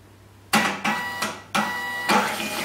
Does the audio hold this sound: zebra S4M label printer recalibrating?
yes